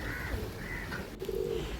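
A pigeon gives a short, soft coo close by, with a faint low background hum.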